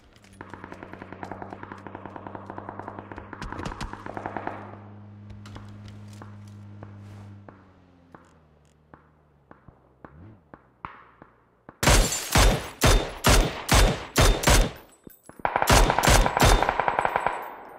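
In a solo shooter video game match, a burst of loud, rapid gunfire cracks out in quick repeated shots after a quieter stretch of footsteps and ambient engine-like drone, then continues with a dense rattle at the end.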